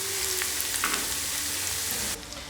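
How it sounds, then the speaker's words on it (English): Sliced onions frying in hot oil for an Awadhi mutton korma, a steady dense sizzle close by that drops slightly in the last moments. "Once the oil is hot, add the sliced onions and cook until they turn light golden in color."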